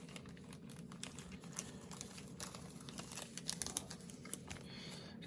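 A plastic bag crinkles and crackles as it is wrapped around a part from a Hobby Boss 1:72 Seahawk FGA.6 model kit, a continuous soft rustle close by with scattered sharper crackles.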